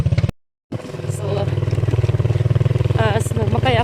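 A motorcycle rides along a bumpy provincial road, its engine a steady close drone with rattling over the rough surface. The sound cuts out briefly near the start, and faint voices come through under the engine.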